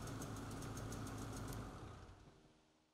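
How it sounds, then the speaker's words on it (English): Polaris Voyageur snowmobile engine running after a restart, a steady mid-pitched idle with a ticking rhythm that holds for about a second and a half, then fades away as it shuts off. "Restart the engine, and ensure the engine turns off when the ignition switch is turned off."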